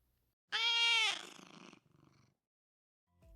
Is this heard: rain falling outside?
no